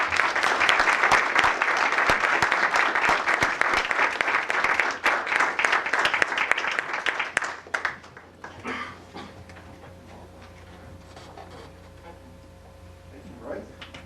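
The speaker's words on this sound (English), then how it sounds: "So if we could all give these great people a round of applause," Audience at a Common Council meeting applauds, dense clapping for about seven seconds that thins to a few claps and fades into a quiet room with faint voices.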